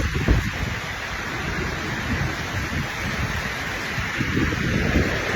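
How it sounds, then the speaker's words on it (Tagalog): Heavy rain pours steadily in a forest park, a dense, constant broadband hiss with a low rumbling undertone that holds at an even level from start to finish, with no voices. "Grabe, lakas ng ulan."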